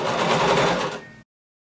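A sewing machine runs steadily as it stitches a curved pocket on denim, with the operator pivoting the fabric to follow the curve. It hums loud and close for about a second, then stops abruptly.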